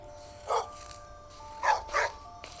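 A dog barks in a few short bursts, two close together after a single one, fairly faint against a quiet background with a steady hum.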